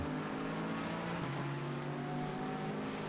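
A Porsche GT4 race car engine at Laguna Seca in a racing video game gives a loud, continuous engine drone with a shifting pitch and steady volume. No speech is heard.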